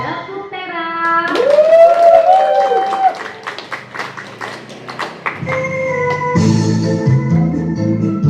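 During an elderly group exercise routine, steady rhythmic hand clapping rings out over upbeat music with a singing voice, the claps evenly spaced and fairly loud.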